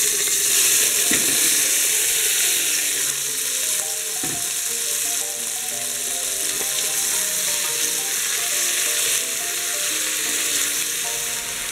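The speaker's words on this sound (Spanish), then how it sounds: "Ahora echamos las judías verdes con el resto de zanahoria y de patata." Green beans, carrot and potato sizzle and fry steadily in a pan with garlic, a continuous close crackling hiss with occasional stirring clatter throughout.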